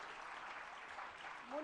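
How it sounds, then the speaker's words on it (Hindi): Audience at a Jain religious discourse gathering in Agra claps together, a soft, distant, even patter of applause with a faint voice or tone emerging near the end. "लेकिन जोरदार तालियां सभी के लिए।"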